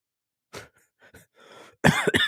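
A single person coughs several times in close succession, a few short harsh bursts followed by a louder, heavier fit of coughing near the end, close and with no talking.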